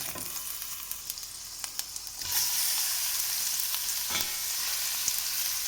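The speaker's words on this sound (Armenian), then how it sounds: "Ու մարմանդ կրակի մեջ շարունակում ենք տապակել։" Meat fries in a pan with spices and flour over a low flame, giving a steady broadband sizzle that swells louder partway through, with occasional stirring scrapes and no talking.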